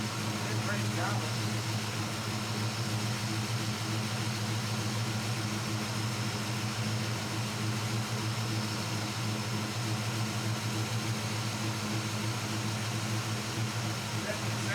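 Car engine idling after a carburetor idle adjustment, with the idle raised and the air-fuel ratio being tuned, a steady low mechanical hum holding even and fairly quiet throughout.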